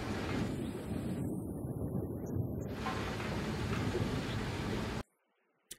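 Thunderstorm ambience in the mining game Gold Rush: a steady, dense roar of rain and rumbling thunder that fills the first five seconds, then cuts abruptly to near silence with a faint final thump.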